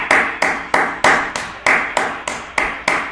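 Steady applause from a single person reacting to a Manchester City football match, about ten sharp, evenly spaced claps, close and loud with no talking.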